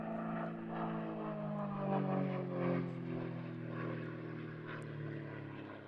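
Propeller aerobatic aircraft flying the opening figures of its competition sequence at the British Aerobatics championship, a steady distant engine drone that swells and fades gently as it manoeuvres, fairly faint and without talk.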